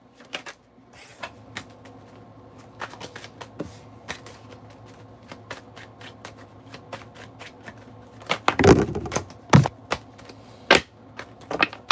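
Tarot cards being shuffled for a reading, a string of crisp light clicks and riffles that builds into a few louder, denser shuffles near the end, with no talk.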